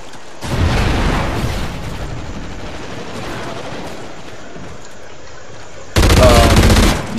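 Ripper submachine gun in Call of Duty Ghosts team deathmatch fires two loud rapid automatic bursts, one long and one shorter near the end, separated by quieter game ambience.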